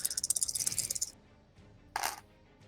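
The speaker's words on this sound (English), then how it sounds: "When you hear the shaking of the dice in the hand and you roll it, it hits the ground." Dice rattle briskly in a hand for about a second, then after a short pause clatter onto a surface in one brief bright hit, close and fairly quiet.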